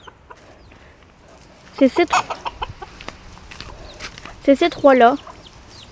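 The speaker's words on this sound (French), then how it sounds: "Donc là il y a 2 poules et un coq" Two hens cluck in short bursts, with a rooster's louder calls near the end, while a person speaks briefly over them.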